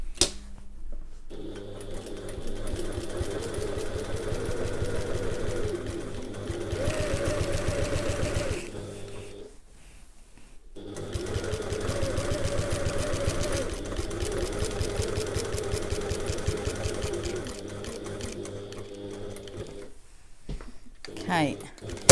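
A sewing machine stitches a box onto a handbag overlay in long steady runs of rapid, even needle strokes, stopping briefly around the pivots at each corner.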